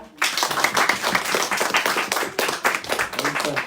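A church congregation claps together in a dense, sustained round of applause lasting the whole stretch, loud and close, with voices mixed faintly into the clapping.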